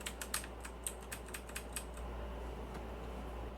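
Keys clack in a quick run of about a dozen crisp strokes on a 1STPLAYER Firerose MK3 keyboard, close and fairly quiet, then stop, leaving a steady low hum.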